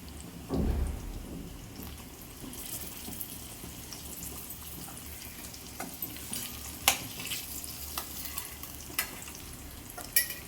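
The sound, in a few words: eggs frying in a pan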